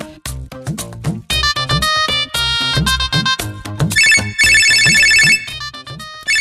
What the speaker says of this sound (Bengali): দেখি কে কল দিল, আমি রিসিভ করি।